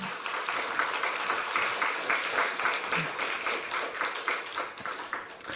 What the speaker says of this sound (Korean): 너무너무 축하드립니다. 우리 박수 한번.